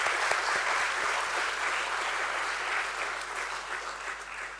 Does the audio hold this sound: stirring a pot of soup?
no